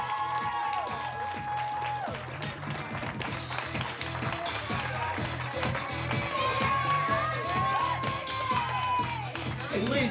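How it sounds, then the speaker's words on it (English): Wedding guests clap and cheer for the maid of honor and best man in a loud, steady crowd ovation that runs the whole stretch, with shouts and a reception mix of noise over it. "I need a very extra special round of applause for our maid of honor and best man"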